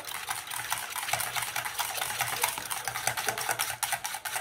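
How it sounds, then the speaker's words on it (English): Whisk beating cheesecake filling in a bowl for a no-bake lemonade pie, giving a fast, continuous scraping and clicking rhythm that is close and fairly loud. "Okay, I've switched to a whisk. Get those lumps out."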